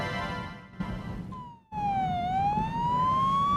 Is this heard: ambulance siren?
yes